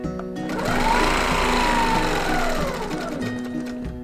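A sewing machine with a hopping ruler foot stitches quilt ruler work on a star design, running as a loud, close mechanical whir that speeds up, holds, then slows, with a steady rattling needle rhythm and no talking.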